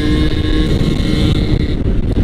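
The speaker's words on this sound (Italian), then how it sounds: "Madonna, qui c'è un vento assurdo." Strong gusty wind roars and buffets the microphone while someone rides a scooter, a loud continuous rumble mixed with the drone of the small engine.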